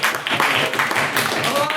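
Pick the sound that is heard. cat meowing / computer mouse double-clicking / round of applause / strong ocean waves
round of applause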